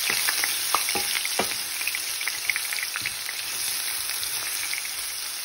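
Garlic ginger paste sizzles and fries steadily in a pan, a continuous crackling hiss with scattered sharper pops and occasional stirring scrapes, close and alone with no voices.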